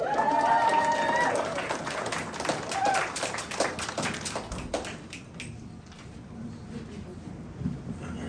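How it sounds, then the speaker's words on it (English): Guests at an art exhibition opening reception applaud a master artist and photographer, a crowd's clapping rising over background talk and music, then thinning into scattered claps and footsteps as the room settles. "Please give him a round of applause because he is amazing"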